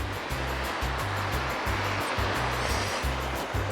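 Sea waves wash onto KC beach on the Konkan coast of Maharashtra, a loud, close, continuous rush of surf with a rhythmic low thumping beneath it.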